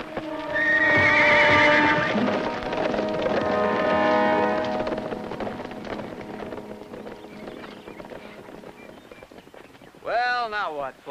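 Horses rigged in a linked pair whinny loudly at close range for several seconds while hooves clip-clop underneath, the racket gradually easing before a voice speaks briefly near the end.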